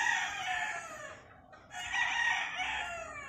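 A Gray Hackle bullstag gamecock crows loudly and close by in two long, strained calls separated by a short pause.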